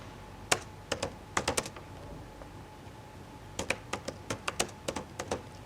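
Java code being typed on a computer keyboard, with bursts of crisp, close key clicks in two runs separated by a quiet pause, over faint background hum.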